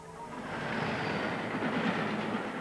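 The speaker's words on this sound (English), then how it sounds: "drove a train into it at 100 miles an hour" A train runs along the rails at speed, a steady rumbling roar with faint rhythmic clatter that swells slightly as it passes, heard alone without voices.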